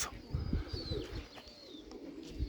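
Pigeons cooing softly near a riverside loft, low repeated coos with faint chirps over quiet outdoor background.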